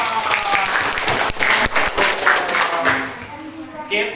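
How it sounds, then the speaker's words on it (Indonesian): Applause rises from a classroom of students during a lesson on plant propagation, a steady patter of many hands clapping throughout, with voices talking over it. "kasih aplaus."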